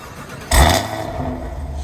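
A 2021 Camaro 1LE engine with Speed Engineering longtube headers catches with a sudden loud burst, then settles into a steady, rumbling idle close by.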